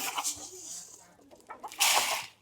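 A few quick clucks from chickens close by, brief and sharp with a louder burst near the end.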